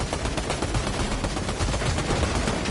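Dense, rapid automatic gunfire from Fortnite fills the whole stretch, loud and close with barely a break between shots.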